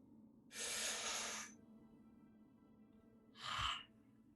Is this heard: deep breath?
yes